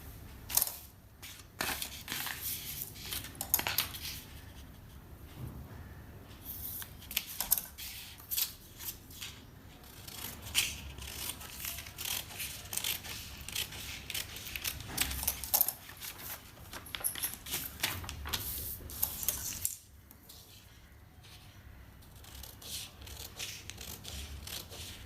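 Scissors snip steadily through blouse fabric during a cutting step, a close, dense run of crisp clicking cuts for about twenty seconds before quieting, with no voices.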